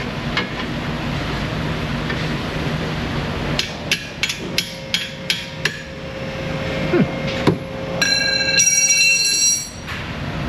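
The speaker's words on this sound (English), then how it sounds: "Let's get our 22mm hammer." A hammer strikes metal in a run of sharp, evenly spaced clangs, followed by ringing metallic tones and a squeal. The work is on a 1991 Ford F150 in a garage with a constant background hum.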